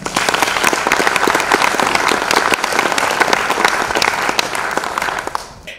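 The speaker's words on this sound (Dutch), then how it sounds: "Applaus voor Liewij Bosman." Audience applause at a literary café evening in Barneveld, loud, dense clapping from a full room that holds steady for several seconds and then starts to fade at the end.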